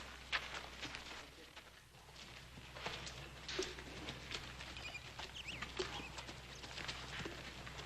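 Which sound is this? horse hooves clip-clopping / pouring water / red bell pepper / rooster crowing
horse hooves clip-clopping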